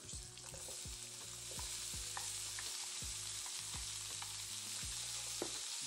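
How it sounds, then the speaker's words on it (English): Diced onions and peppers frying in a pan with browned kielbasa sausage, a steady close sizzle under repeated scraping stir strokes. "this kielbasa is brown, I will go ahead and add the onion and the peppers"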